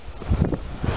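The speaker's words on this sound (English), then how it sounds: "It's been really blustery here in the park. There's been gusts up to 40 miles per hour." Gusty wind in a park, gusting up to 40 mph, buffets the microphone with low, rumbling blasts that swell and ease over a second, loud and close.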